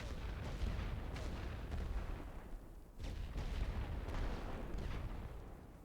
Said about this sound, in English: Établissez le barrage. Pilonnez cette position.